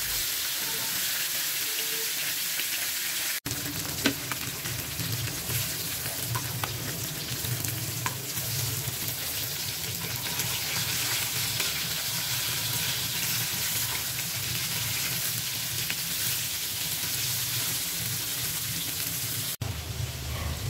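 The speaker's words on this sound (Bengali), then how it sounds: "প্রথমে আমি মাছগুলোকে ভালো করে একটু ভেজে নিব।" Rohu fish sizzles and spatters in hot oil in a pan, a continuous close frying crackle with occasional stirring or turning noises and a brief quieter start.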